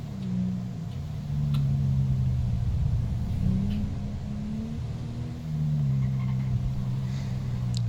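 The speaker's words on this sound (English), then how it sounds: "threw me into a police car without warning and drove me off" A police car in GTA V FiveM drives along with a low engine rumble that rises and falls as it revs and shifts, heard steadily from inside the vehicle, with faint ticking over the top.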